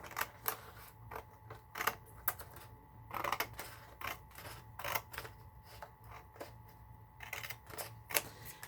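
Cardstock from Michael's being trimmed close to the edge for a handmade vintage anniversary card, giving a quiet series of sharp clicks and snips at an uneven pace over a low hum.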